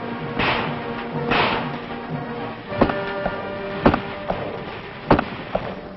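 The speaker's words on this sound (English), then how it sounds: "the recruit learns how to squeeze them off accurately with the MP's own primary weapon, the .45 automatic pistol" Pistol shots from a .45 automatic fired by military police recruits on a training range, several sharp separate cracks spaced a second or so apart after some duller bursts.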